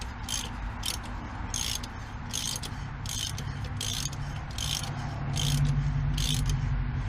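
A thread tap cleans rusty old threads, sprayed with WD-40, on a John Deere 5525 tractor during a front-end loader installation: an even, repeating ratcheting click about once or twice a second over a steady low hum.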